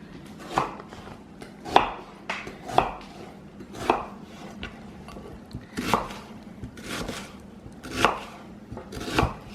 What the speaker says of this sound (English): Cut up an onion.